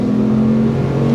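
A manual-swapped Subaru SVX with four-wheel drive holds a loud, steady engine drone with a strong low tonal hum, close and sustained through the moment, with no voices.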